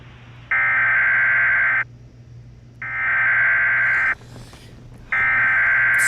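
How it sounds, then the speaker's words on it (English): In a video game, an Emergency Alert System tone plays as three loud, harsh buzzing bursts of about a second each, separated by short gaps. "Second EAS alert of the day."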